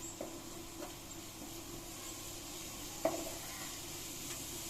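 Sliced onions sautéing in a pan for chicken curry, a faint, even sizzle with a few soft spoon knocks as they are stirred, heard up close without speech.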